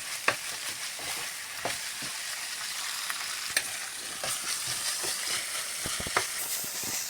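Spice mixture roasting in a pan over a gas flame, with a steady close sizzle and scattered scraping clicks and taps as it is stirred, continuous with no talk.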